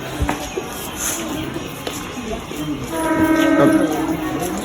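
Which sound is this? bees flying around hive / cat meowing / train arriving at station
train arriving at station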